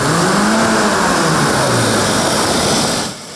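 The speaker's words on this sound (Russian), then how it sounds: "Машины носятся в двух шагах от подъезда." A car speeds through a residential courtyard close by, its engine roaring loud and steady with a shifting pitch as it passes, then cutting off abruptly near the end.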